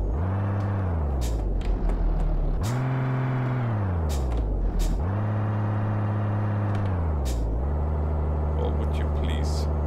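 A video game truck engine revs up and settles in repeated surges, with air brake hisses cutting in briefly, loud and steady throughout while someone talks over it.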